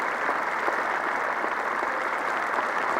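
A cricket crowd at Dean Park applauds Richards as he walks back to the pavilion after a fine batting innings, broad and sustained clapping from a large, somewhat distant crowd, even and unbroken throughout.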